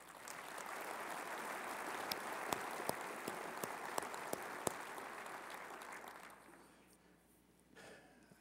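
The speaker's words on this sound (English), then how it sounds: "we need to give them a round of applause for doing that" An audience at a cattlemen's association address applauds steadily with sharp individual claps standing out, then the clapping fades away toward the end.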